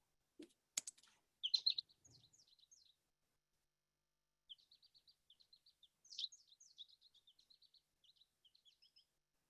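A male goldfinch in bright yellow spring breeding plumage sings bursts of quick, high twittering chirps. It sounds fairly near against otherwise quiet surroundings, with a few clicks and taps at the start.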